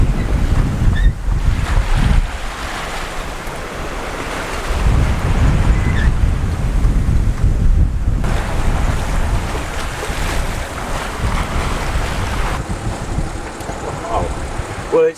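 Wind roars and ocean swell washes steadily around a sailboat running downwind at about 6 knots, with loud, continuous gusting rush and wave surf close to the microphone throughout.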